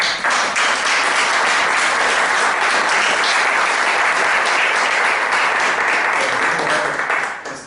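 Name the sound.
audience applause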